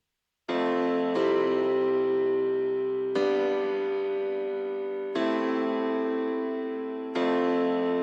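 Sustained processed piano chords ring out in long, slowly decaying swells, each new chord arriving every couple of seconds with a soft, washed, ambient texture.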